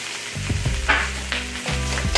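Fried rice crackles and sizzles steadily in hot oil in a pan, a loud close hiss with occasional scraping stirs.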